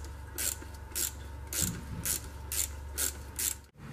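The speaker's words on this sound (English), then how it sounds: "what I used was a 1/4-inch drive ratchet, an 8-inch extension, and then a 10mm swivel head" Quarter-inch drive ratchet with extension and swivel head backing out transmission pan bolts on a Land Rover Discovery Series II, with steady close-up rhythmic clicking in regular strokes over a low hum, ending abruptly.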